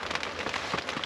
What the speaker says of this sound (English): This is a perfect rain though to sleep in